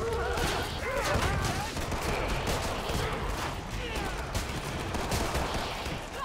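Dense, continuous gunfire in the zombie shooter Killing Floor 2, with rapid overlapping shots and bursts packed close together for the whole stretch, while players talk over the shooting.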